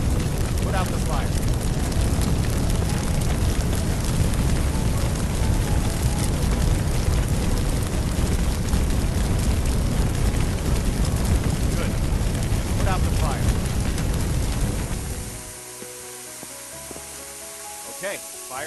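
Fire being extinguished in the Firefighting Simulator video game, with a loud, steady rushing hiss and spray that holds for about fifteen seconds, then cuts off abruptly, leaving a quiet room tone.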